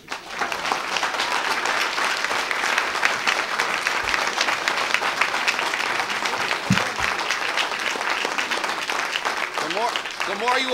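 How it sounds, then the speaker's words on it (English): Sustained, dense applause fills the hall at an Illinois attorney general debate, a steady wash of many hands clapping for about ten seconds, with a faint voice rising near the end. "The more you applaud, the less questions we get to."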